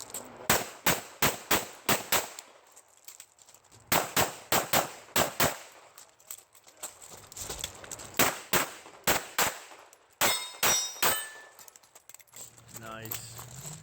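Handgun shots at a competitive shooting stage, fired in rapid sharp bursts of several shots with short pauses while the shooter moves between positions, loud and close, with some voices talking faintly.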